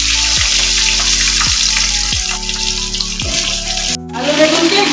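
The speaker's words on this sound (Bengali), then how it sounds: "আলু বেগুনকে একটু ভেজে নিলাম।" Potatoes and eggplant frying in hot oil in a kadai with panch phoron spices, a steady close sizzle that runs throughout with a few soft clinks and stirring noises.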